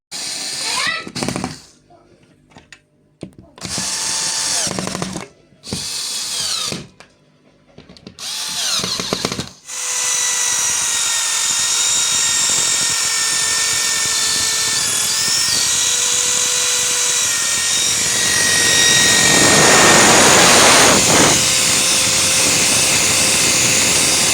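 Power drill running during a living room makeover at home, a steady loud whine held for about fifteen seconds after earlier bursts of talk, rising in intensity near the end.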